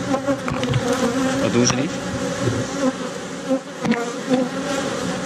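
Bees swarm around an open beehive with a loud, close, continuous buzzing that swells and dips as individual insects fly past, while someone briefly speaks over it.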